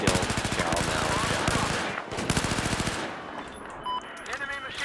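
Rapid automatic machine gun fire in Battlefield 4, long rattling bursts of closely spaced shots, loud and continuous, then choppier fire with a radio-style voice speaking over it.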